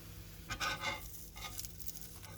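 Banana pancake batter frying in a very hot pan, a soft steady sizzle with a couple of brief louder swells of spatula scraping, quiet and close, no voices.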